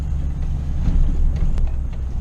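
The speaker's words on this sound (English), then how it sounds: "The truck does sound really good though while you're just cruising." Cabin recording of a V8 pickup truck cruising, giving a steady low engine rumble with road noise and a faint click partway through.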